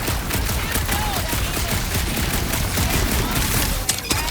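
Rapid bursts of gunfire crackle nonstop in Marvel's Guardians of the Galaxy video game, a loud, dense fusillade of shots layered over a busy combat mix with faint voices underneath.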